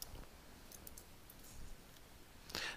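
A single soft mouse click, faint and close, followed by quiet room tone and a sharper click near the end while working in the Joomla 1.5 JCE editor.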